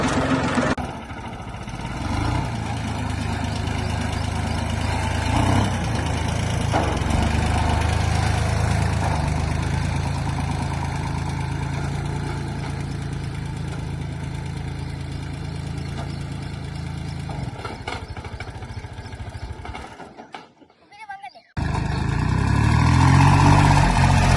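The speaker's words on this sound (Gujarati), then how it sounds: "હવે આપણે ટ્રેક્ટર ચલાવવા દેવાના છે" A tractor engine runs at a steady, low rumbling idle for a long stretch. It briefly cuts out before returning louder.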